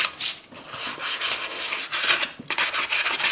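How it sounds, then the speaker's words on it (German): Fine sandpaper rubbing over the rear wheel hub of a Peugeot 206 CC during a brake change, a steady close scratchy sanding with repeated back-and-forth strokes and brief pauses, no talking. "Da könnt ihr auch ganz feines Schleifpapier nehmen."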